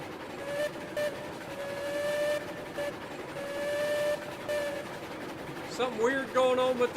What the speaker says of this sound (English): Something weird going on with the freaking whistle.